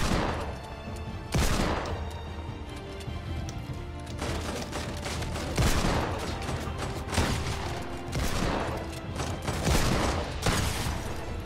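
Repeated loud gunshots from a Desert Eagle (Deagle) pistol in a shooter video game, bursting out in irregular bangs across the stretch amid continuous game effects and background sound.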